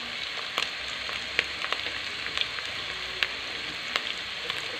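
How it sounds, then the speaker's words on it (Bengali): Bitter gourd fries with small prawns and turmeric powder in a hot pan, giving a steady close sizzle dotted with sharp pops and crackles throughout. "দেশি চিংড়ি দিয়ে আমি এখন করল্লা ভাজি করব।"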